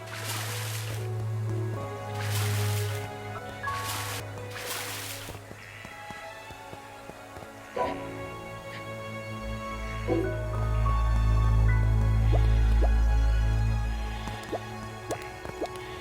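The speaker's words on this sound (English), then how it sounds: "Let's quickly water some more plants." Plants are watered in the video game Craftopia: repeated liquid pours and drips with squishy splashes come in bursts over a low steady background hum.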